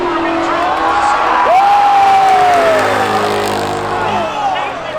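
Spectator crowd at a Seekonk Speedway drag race, cheering and whooping loudly under a race announcer's voice, with car engines droning throughout.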